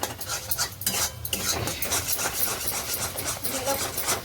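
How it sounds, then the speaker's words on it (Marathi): Masala for a fish curry fries in oil in a pan while a spoon scrapes and stirs it, giving busy, close clattering over a constant sizzle with no speech. "अजून दोन तीन मिनटं असं फ्राय करायचं"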